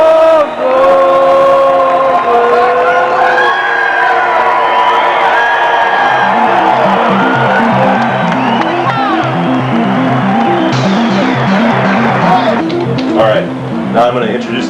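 A baseball crowd at Wrigley Field on a Chicago Cubs game day swells into loud cheering and whooping, with sustained tones and some clapping mixed in.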